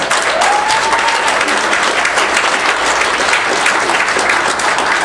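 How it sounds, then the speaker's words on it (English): A crowd applauds steadily and loudly throughout, dense clapping filling the whole stretch with no pause. "I think we owe this man a big round of applause"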